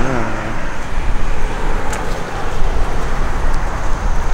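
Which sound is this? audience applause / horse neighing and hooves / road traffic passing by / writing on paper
road traffic passing by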